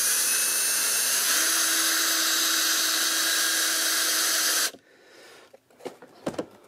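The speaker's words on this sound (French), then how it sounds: "essayez de les visser le plus droit possible, parce que dans le plastique, ça vite fait, enfin dans le caoutchouc, ça vite fait de partir en travers." A power drill whines steadily as it drives screws into the rubber wheel of a Worx robot lawnmower, a loud high motor drone that cuts off abruptly and is followed by a few quiet clicks and knocks.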